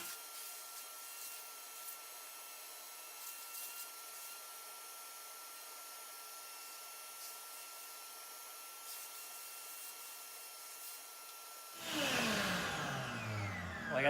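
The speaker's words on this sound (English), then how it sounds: "I grab my handy dandy shop vac, I'll turn it on, and it'll make a lot of noise" Shop vac switched on to suck chaff from a Behmor 1600 Plus coffee roaster: a quiet steady motor whine with faint clatter, then a loud surge of rushing suction near the end.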